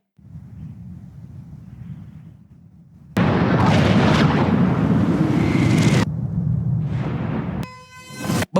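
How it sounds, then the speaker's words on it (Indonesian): A huge film explosion with a fireball erupts suddenly, a loud, close roaring blast that sustains for a few seconds before dropping into a lower rumble and a final crackling burst. "ledakan dahsyat mengguncang seluruh area itu"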